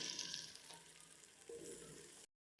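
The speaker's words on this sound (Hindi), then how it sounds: "हमने टमाटरों को फ्राई किया है" Finely chopped tomatoes fry in a pan for a potato and lentil curry, giving a steady close sizzle with a brief stir that cuts off abruptly into silence.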